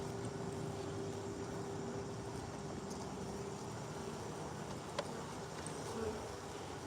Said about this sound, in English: I'll be quiet so you can enjoy the sound of the honeybees.